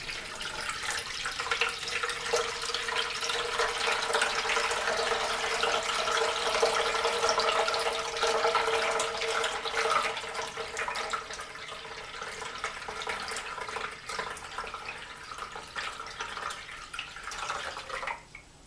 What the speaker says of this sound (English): pour the nutrient water into the water tank